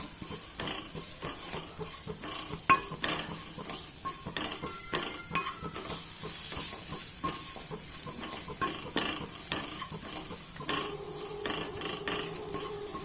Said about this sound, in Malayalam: നന്നായിട്ടൊന്ന് മിക്സ് ചെയ്ത് ഇതിന്റെ പച്ചമണം മാറുന്നവരെ ഒന്ന് നന്നായിട്ടൊന്ന് മിക്സ് ചെയ്തെടുക്കാം